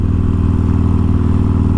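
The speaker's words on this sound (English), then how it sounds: "It sounds really good at idle too." A tuned Harley-Davidson Forty Eight motorcycle with a high-flow exhaust idles close by, giving a loud, deep, steady throbbing rumble with no voices over it.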